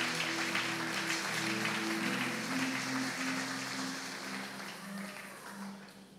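A church congregation claps loudly and steadily, with a few cheers mixed in. The applause slowly fades over six seconds while a low tone hums underneath.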